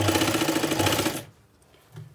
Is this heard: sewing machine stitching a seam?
yes